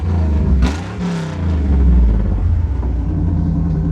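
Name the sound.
1987 Camaro IROC Z28 dual exhaust revving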